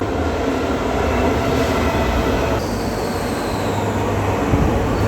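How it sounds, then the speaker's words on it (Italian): A Rome metro train pulls into an underground station with a loud, steady rumble of wheels on rail and a thin metallic squeal rising over the roar. "Attenzione, treno per Laurentina in arrivo."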